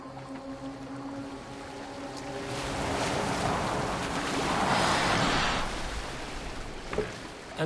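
A boat moves across water in a Viking-era video game, with a steady rush of water and hull wash that swells in the middle and fades slightly, and no talk.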